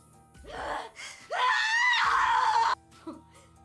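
Mai, a character in the game Death end re;Quest 2, gives a loud, sustained scream after a sharp gasp, with brief strained vocal sounds around it, close and intense.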